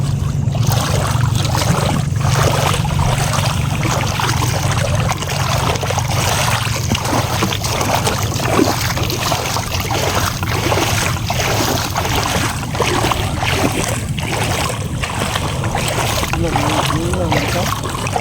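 A boat churns steadily through water with a constant engine drone and splashing, while people talk over the noise.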